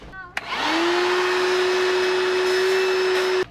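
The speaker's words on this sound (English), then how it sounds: "So this is a cordless vacuum we hope to use on a lot of stuff detailing wise." A DeWalt cordless wet dry vacuum switches on with a click and spins up into a loud, steady whine with a constant motor tone, running close by before cutting off at the end.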